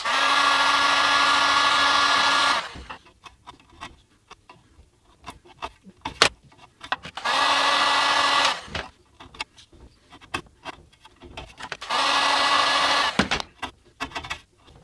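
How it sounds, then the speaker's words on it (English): Heat gun warming a Les Paul Junior guitar neck during a restoration, blowing in three loud steady bursts of roughly two to three seconds each, separated by quieter gaps filled with clicks and handling noises. "so let's take the heat gun now. Okay, so let's heat this up and remove it"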